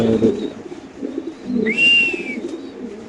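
Racer pigeons at a pigeon farm coo in low, throaty rolls that repeat across the moment, joined by a thin high whistle-like call midway, fairly close and with no talking.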